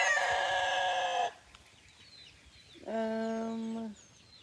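A rooster crows twice close by, a long harmonic call at the start and a second, lower crow after a short quiet gap, with faint background in between.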